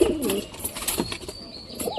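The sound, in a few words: pigeon cooing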